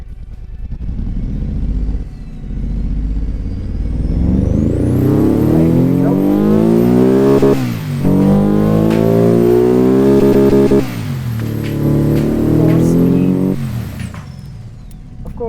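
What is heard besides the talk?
car engine revving, popping and banging, from a video game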